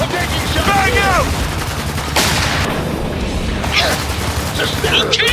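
Loud, sustained machine gun fire in the video game Spec Ops: The Line, rapid bursts and cracks layered with shouting voices and battle clatter.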